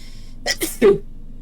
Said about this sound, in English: Sneeze or don't, come on.